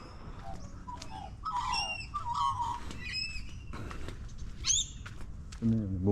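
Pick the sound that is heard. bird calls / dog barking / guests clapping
bird calls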